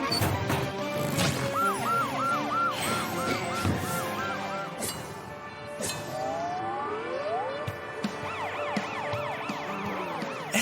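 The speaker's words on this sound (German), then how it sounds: "Durch Mathildas Sirene machen die anderen Autos für sie Platz." A cartoon police truck siren wails in repeated rising and falling cycles amid animated traffic, with crashes and bumps from other cars in the chase breaking in between the siren bursts.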